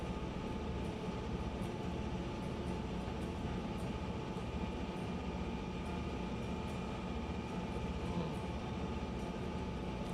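Two locomotives in the video game Railroader haul a heavy freight train uphill, a steady, loud rumble of engines and rolling wagons running throughout with faint rhythmic rail clatter and no talk.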